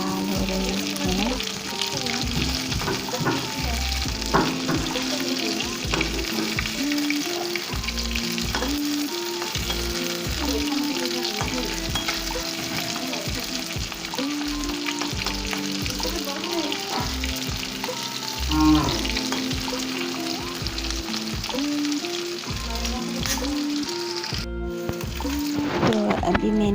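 Fish frying in oil in a pan, a close, loud, steady sizzle with crackling pops and occasional stirring, background music underneath throughout.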